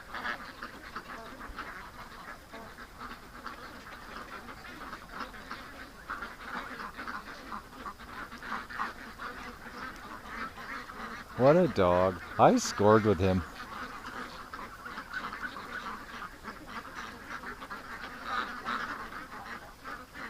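Ducks quacking behind a dog watching a swamp, a short cluster of several loud quacks mid-clip over steady buzzing insects, with someone talking nearby.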